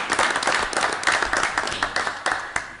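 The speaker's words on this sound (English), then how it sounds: "And would like to give, if we may, a big round of applause to Mark Romito." A short burst of applause from attendees at a regular borough council meeting, brisk and fairly close, with individual claps audible within the steady patter.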